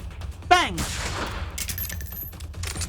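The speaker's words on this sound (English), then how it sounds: "Oh, I forgot I had the support fire." Support-fire gunfire in the video game Reverse Collapse: Code Name Bakery, a burst of shots ringing out over busy game effects, with a rising tone sweep and clattering impacts following.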